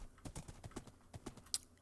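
Hooves clip-clop in a quick, uneven run of soft thuds from a horse in gold armor in Minecraft, close and fairly quiet, with one sharp bright tick near the end.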